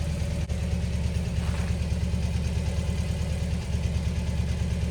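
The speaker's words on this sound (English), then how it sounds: "engine runs really well" A VW T25 Westfalia van engine idles steadily with a low, even mechanical hum, close by and continuous, with no talking.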